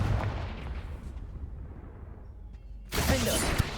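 Confringo fire spell blast in the video game Hogwarts Legacy, a low rumbling boom that fades away, then a sudden loud burst of crackling impact near the end.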